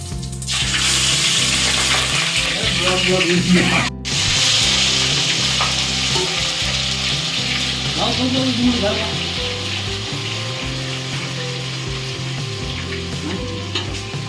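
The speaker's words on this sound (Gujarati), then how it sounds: "વઘાર શરૂ છે." Oil sizzles loudly and steadily as vegetables are tempered in a pan, with a brief cut near the start and faint clatter and low sounds underneath.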